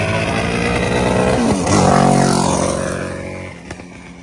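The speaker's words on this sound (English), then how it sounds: "that motorcycle is loud." A loud motorcycle passes along a street during an outdoor interview in Raleigh, its engine building to a peak at close range and then fading as it moves away.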